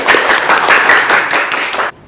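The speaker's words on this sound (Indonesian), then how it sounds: "Yuk berikan tepuk tangan." Audience applause at an Indonesian talk event, a steady wash of many hands clapping for about two seconds before cutting off abruptly into near silence.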